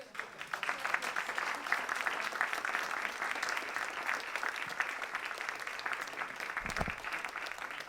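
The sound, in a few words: audience applause after piano performance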